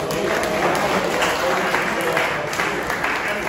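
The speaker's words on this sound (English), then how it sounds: "Give yourself a round of applause." A room of students, parents and coaches at a high school golf banquet claps steadily, a full, even round of applause with a voice faintly underneath.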